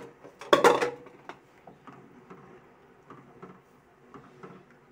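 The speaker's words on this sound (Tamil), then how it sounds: "தேங்காய் பால் ஊற்றி ஒரு 2 நிமிஷம் நல்லா கிளறி விடுங்க." A ladle stirs coconut milk into rice porridge (nellu maa koozh) in a pot, opening with one loud scraping clatter, then light scattered clinks and scrapes that fade to quiet.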